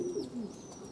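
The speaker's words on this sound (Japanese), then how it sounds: "鳩舎の周りに飛ぶ鳩の羽数が増えました。" Homing pigeons gather around their loft, one cooing call rolling close and clear against a faint steady background, with no talking.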